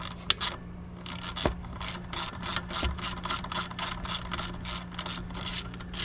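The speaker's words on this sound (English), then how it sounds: "Let's take those four bolts off." Hand ratchet clicking rapidly in steady bursts while removing 8mm bolts on a Jeep Wrangler engine, close and clear with a faint background hum and occasional metallic clinks.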